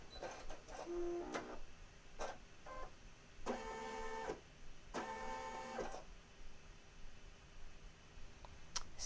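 Computerized embroidery machine stitching a design on a beach straw topper, with bursts of rapid mechanical whirring, short clicks as the thread is cut and the hoop travels between letters, over faint background hum.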